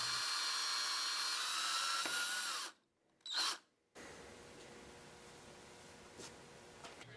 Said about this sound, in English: clamp the knife to the handle pieces and drill the holes through it.